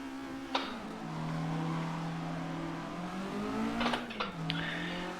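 An Alfa Romeo GTA race car in a racing video game at Donington revs and shifts, its engine note droning steadily with pitch swells and brief shift dips, loud and close.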